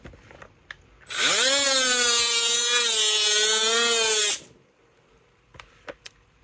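A Hercules 12V right angle grinder whines loudly at high speed for about three seconds under load, its pitch rising as it spins up and dipping slightly as pressure is applied, then cutting off, with faint taps before and after.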